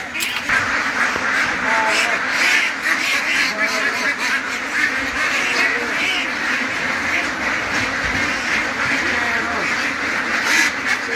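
A large flock of about 700 ducks quacks continuously and loudly, dense overlapping calls filling the whole stretch with steady commotion.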